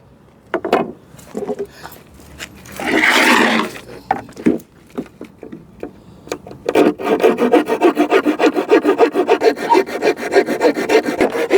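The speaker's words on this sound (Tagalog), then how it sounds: "itong bulilit na lagari ko. Kahit ganito to ang bilis makaputol" A small hand saw cutting wood up close, with rapid rhythmic rasping strokes building steadily after some scraping and handling sounds.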